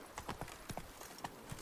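Geralt's horse Roach in The Witcher 3 video game, quick hollow hoofbeats clopping in an uneven galloping rhythm, fairly quiet and close, with no talk over them.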